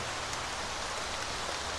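Steady rain falls through the woods on public hunting land in Ohio, a constant even hiss of drops on leaves and ground with no talking, holding at a moderate level throughout.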